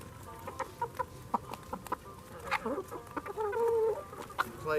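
Backyard chickens clucking and murmuring at close range, with scattered short clucks building into a denser, louder run of calls toward the end.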